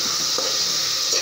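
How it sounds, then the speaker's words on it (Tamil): A plantain flower biryani mixture with onion being stirred in a pan, a loud continuous close sizzle with a couple of soft spoon scrapes, no voices over it. "இப்போ அதை நல்லா கிண்டி விடுங்க"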